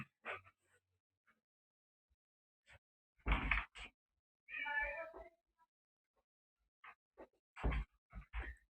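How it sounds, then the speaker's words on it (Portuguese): A cat at a door meows several times in short, drawn-out calls, close by, with a few soft knocks and scuffs in between. "meu gato querendo entrar"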